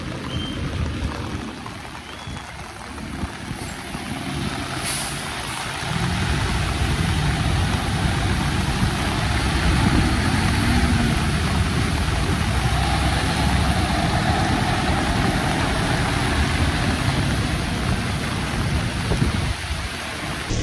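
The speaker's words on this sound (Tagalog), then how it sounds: "Jet ski" A jet ski's steady engine drone rumbles beneath a broad wash of water and wind noise on floodwater in Metro Manila, growing slightly louder partway through and holding constant.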